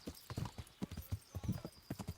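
Horse hooves clip-clop in a medieval open-world game, a quick, uneven run of soft close thuds with a faint whinny-like tone, under occasional quiet talk.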